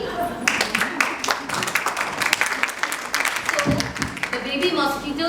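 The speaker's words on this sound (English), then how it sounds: "so come on, clap for me" An audience at a speech breaks into clapping, a dense patter of individual hand claps that swells and wavers, with some voices and a brief spoken moment mixed in.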